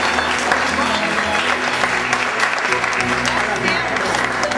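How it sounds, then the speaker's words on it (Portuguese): A congregation at a Methodist church in Jericó gives a warm round of applause, a dense, steady clatter of many hands filling the room, with a voice speaking over it. "Uma salva de palmas, Dona Ivete"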